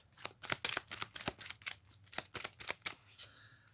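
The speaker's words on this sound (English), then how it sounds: "We reshuffle the deck" A deck of game cards being shuffled up close, with a rapid series of crisp riffling snaps and flicks in quick bursts, quiet overall and without talk.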